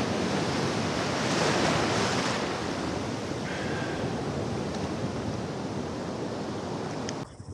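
Ocean surf breaking on a beach where people swim year-round, a steady, loud wash of waves with wind rumble across the whole stretch, ending abruptly near the close.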